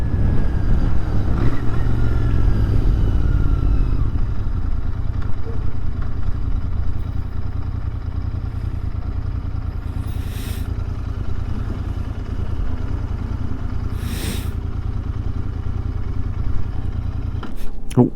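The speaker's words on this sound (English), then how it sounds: "Oh, I just stalled my freaking bike." A motorcycle engine runs with a steady low rumble on a cold ride, then cuts out abruptly near the end as the bike stalls, leaving a quieter hum with faint wind.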